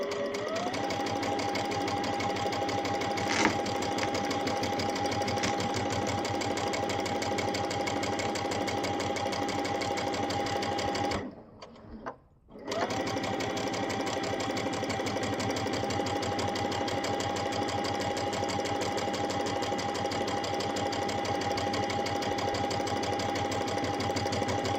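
A sewing machine runs steadily while stitching quilt fabric for a Churn Dash table topper along a Sew Straight guide, giving a constant whirring hum that stops briefly near the middle before starting again.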